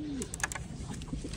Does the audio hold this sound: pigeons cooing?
yes